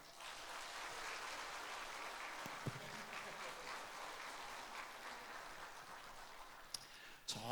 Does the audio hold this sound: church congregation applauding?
yes